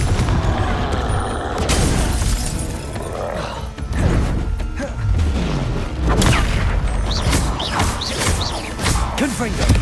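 Confringo spell explosions in the video game Hogwarts Legacy, a barrage of booming blasts and crashing impacts, loud and near, with several bursts rolling one after another over about ten seconds amid shattering debris and brief voice sounds.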